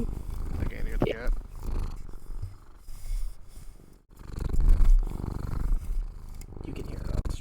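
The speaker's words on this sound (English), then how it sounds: "muting for a second because my cat is here" A house cat purrs close to the microphone, a continuous low rumbling that swells and fades over several seconds against faint background noise.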